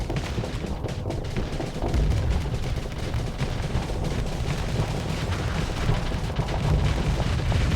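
Missile launches in the space combat game Starsector, a dense, continuous barrage of booming, rumbling blasts that swells and stays loud with no talk.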